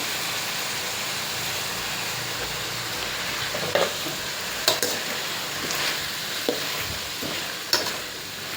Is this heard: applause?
no